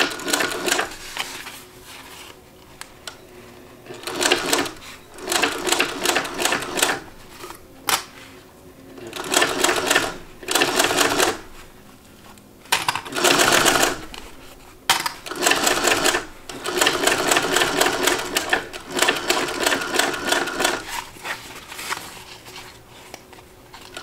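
A home sewing machine stitches around the rest of a Vonni bag, running in repeated bursts of rapid mechanical whirring separated by short pauses, close and clear with no talking.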